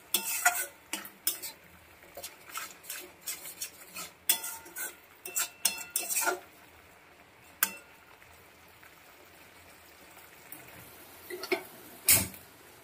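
Masala stirred and fried in a pan, with a spoon scraping in quick, irregular strokes for several seconds, then quieter, sparser scrapes over a faint, close sizzle.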